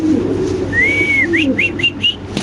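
White King pigeons coo softly and low, with sharper whistling chirps rising above, close and clear, with no talk over them.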